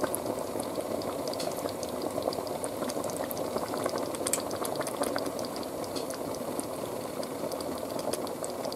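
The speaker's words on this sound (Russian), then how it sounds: "Вон у нас уже кипит." A pot of borscht dressing of beets, carrots, tomatoes and peppers boils steadily on the stove, with continuous close bubbling and small popping sounds.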